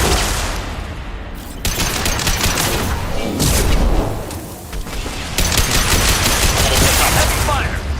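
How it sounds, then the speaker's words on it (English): Heavy gunfire in the video game Mass Effect 2, sustained loud volleys of shots and booming impacts filling the scene continuously, with voices talking beneath the din. "Heavy fire!"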